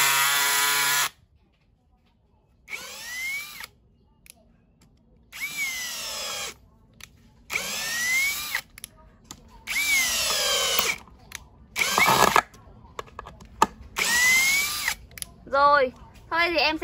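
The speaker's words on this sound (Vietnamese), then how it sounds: "khoan sắt khoan gỗ với cái con Makita 13 ly để cho tất cả các bác nhà mình luôn" A Makita 13mm three-function drill bores into wood in repeated loud whirring bursts, each roughly a second long and separated by brief pauses, with the motor spinning up and winding down.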